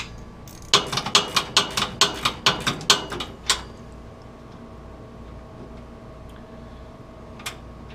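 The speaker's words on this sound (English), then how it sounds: "You'll need to attach your regular wrench on your 13mm and your 13mm socket on the back side, and we'll go ahead and loosen these." A ratcheting wrench and 13mm socket turn a bolt on a Polaris 570 crew door, giving about a dozen quick, close metallic clicks in a steady rhythm before the clicking stops and the room falls quiet.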